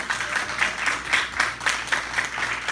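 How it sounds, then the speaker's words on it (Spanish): Congregation applause in a church service, a rhythmic, steady clapping in unison at a quick even pulse, moderately loud and somewhat distant, with a faint hum of voices beneath. "Un fuerte aplauso al Rey, aleluya."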